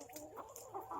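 Backyard chickens, several hens in a coop, giving a few faint, soft clucks close by in otherwise quiet surroundings.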